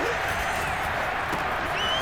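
A stadium crowd in the video game Madden NFL 22 swells into a steady roar during a tense two-point conversion attempt, a broad continuous wash of noise throughout.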